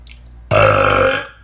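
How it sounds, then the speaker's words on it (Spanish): A single loud, close burp lasts nearly a second after a brief quiet moment, with a rough, throaty tone that fades out at the end. "Para quienes extrañan mis eructos."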